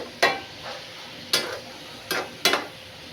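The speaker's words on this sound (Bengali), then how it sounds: "মশলাটাও কষা কষা হোক" Spices and vegetables fry in a pan as a spatula scrapes through them in four distinct strokes over a low, quiet sizzle.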